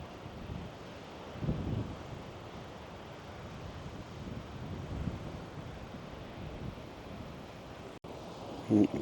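Sea waves wash continuously against the coast, with gusting wind rumbling across the microphone. The surf is steady and moderately loud, with brief swells, and no voices are heard.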